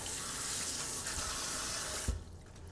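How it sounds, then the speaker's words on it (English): Running faucet water splashes steadily over knives or food being rinsed under a kitchen tap, then cuts off abruptly near the end with a small clunk, leaving quiet room tone. "Let me rinse these off."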